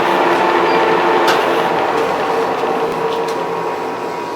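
A metal lathe hums and grinds while facing the end of a metal bushing for a barrel tuner, a loud steady machine drone with a few faint ticks, slowly easing off.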